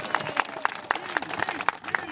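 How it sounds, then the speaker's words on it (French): A crowd applauds the creator of the Vendée Globe sailing race at Les Sables d'Olonne, with scattered claps rising through a moderate wave of clapping and voices talking over it. "Une vague d'applaudissements pour le créateur du Vendée Globe, Philippe Gentot"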